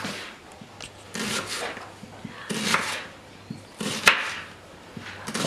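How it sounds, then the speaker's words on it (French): A kitchen knife chops an onion into julienne strips on a wooden board, with a few close, irregular bursts of cutting and scraping in otherwise quiet surroundings. "On commence à hacher l'oignon en julienne."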